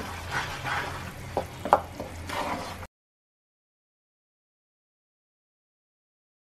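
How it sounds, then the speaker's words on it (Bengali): Salt, red chilli powder and turmeric being stirred into jaggery for a plum pickle, a close, wet scraping and mixing that runs for about three seconds before cutting to silence. "সব উপাদান ভালোভাবে মিশিয়ে নেব"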